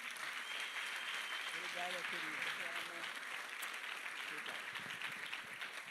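A church congregation claps steadily in sustained applause, with a few voices briefly audible beneath it, the clapping dense and continuous throughout.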